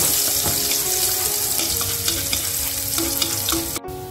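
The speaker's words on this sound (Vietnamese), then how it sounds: "bây giờ tiếp theo là mình sẽ cho phần tỏi băm lúc nãy vào để thử" Minced garlic sizzles in hot cooking oil in a pan while making stir-fried hu tieu noodles with shrimp and pork, a steady loud crackling fry close up with no talk.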